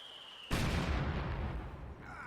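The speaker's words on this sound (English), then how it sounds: "Mortar continues to barrage away up to Vic 2, 11 kills" A mortar shell lands in a Company of Heroes 2 battle: a sudden heavy blast bursts out of a quiet background and rumbles away over about a second and a half, fairly faint overall.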